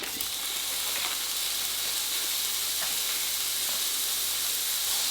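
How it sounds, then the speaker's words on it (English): Minced beef browning in a hot pan over raised heat, a loud continuous sizzle and hiss with occasional faint scrapes, close up and without talk. "turn it up a little bit because you want to brown this meat"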